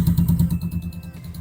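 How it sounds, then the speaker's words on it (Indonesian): A Yamaha Mio scooter engine, freshly rewired with rebuilt ignition, runs close by with a steady, fast low putter and some light mechanical clatter. "Motor kesayangan kalian sudah nyala lagi."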